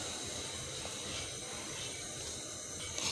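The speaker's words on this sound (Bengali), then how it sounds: "দিয়ে দিচ্ছি অল্প করে পানি" A little water poured into a wok of sugar on the stove, a soft steady hiss and trickle lasting the whole time, fairly quiet and close.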